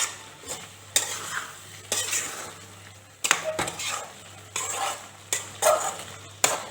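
Curry with coriander leaves stirred in a pan brings repeated scraping strokes of a spoon, each with a brief clatter against the metal, over a low simmering sizzle, close and with no talking.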